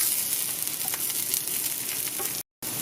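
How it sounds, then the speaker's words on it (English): Garlic, a single clove, sizzles steadily in a hot frying pan with onion as it is stirred, a constant close crackle with a brief dropout near the end. "add our garlic, just 1 clove of garlic. Give that a little stir."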